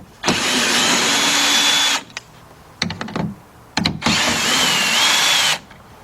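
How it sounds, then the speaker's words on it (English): A cordless drill with a 10mm socket on a 3/8 drive unscrewing bolts behind a BMW X5 outside door handle: two sustained high whirring runs of about two and three seconds each, close and loud, with rattling clicks between them. "So we got me a 10mm socket, 3/8 drive with my cordless drill."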